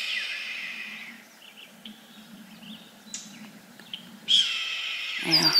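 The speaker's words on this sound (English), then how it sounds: "Somewhere in that tree is a red-tailed hawk, and I can't find him." A red-tailed hawk calling from somewhere in a tree, with a few thin, distant raspy cries over quiet outdoor ambience, then a louder burst near the end.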